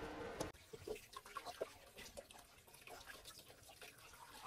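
Tap water runs steadily while food is rinsed in a strainer, with irregular splashing and dripping spatters, fairly quiet and close.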